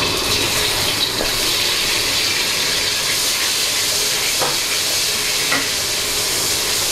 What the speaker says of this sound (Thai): ผัดเต้าเจี้ยวให้หอม